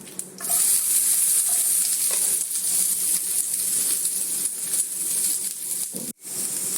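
Chopped onions hit hot oil already holding dried chillies and curry leaves, setting off a loud, close, continuous sizzle with occasional stirring clatter and a brief utensil knock near the end.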